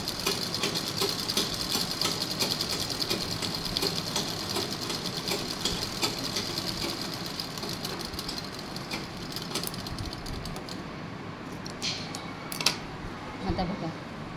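A sewing machine stitches along folded fabric while making a top, a steady whirring mechanical run that continues throughout at moderate level with faint clicks near the end.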